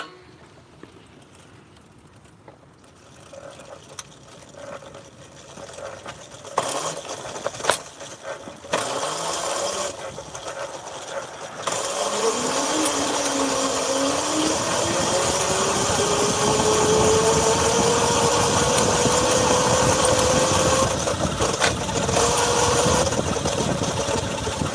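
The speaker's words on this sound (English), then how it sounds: "let's go ahead and run this scooter" An electric scooter running on parallel-connected batteries starts with scattered clicks and knocks, then a motor whine rises steadily in pitch as it speeds up and holds as a loud, continuous hum.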